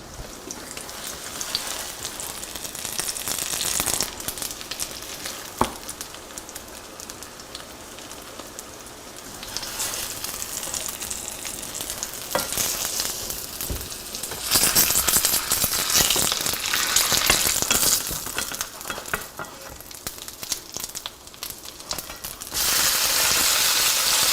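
Steady crackling sizzle of a Japanese shrimp pancake frying in a pan, a dense, spitting hiss that swells and eases over time, heard alone without voices.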